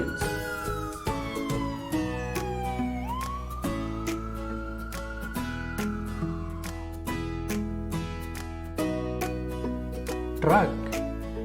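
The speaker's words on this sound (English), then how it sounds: "ambulance," An ambulance siren wails in rising and falling sweeps over a bright, busy musical backing, moderately loud and continuous.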